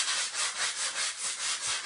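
A piece of wood is rubbed by hand with sandpaper in steady back-and-forth strokes, each pass a soft rasping swell repeating about every quarter second, close and fairly quiet with no voices.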